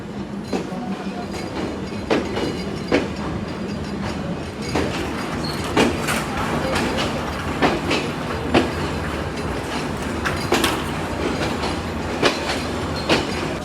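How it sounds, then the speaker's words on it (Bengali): The Kapotaksha Express rolls into Khulna railway station at night with a steady rumble and regular clickety-clack of wheels over rail joints, heard up close from onboard. "আমাদের ট্রেন প্রবেশ করছে খুলনা জেলার খুলনা রেলওয়ে স্টেশনে"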